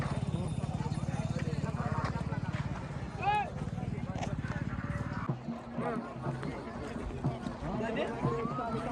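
Bullocks pulling a cart at a village bullock cart race, with fast rhythmic hoofbeats pounding close for several seconds before fading, under shouting and voices from the crowd.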